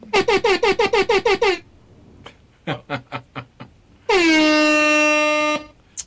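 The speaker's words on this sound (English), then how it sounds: "I need to open up my air horn" Loud air horn blasts close by: a rapid string of short honks, a few more spaced bursts, then one long sustained blare.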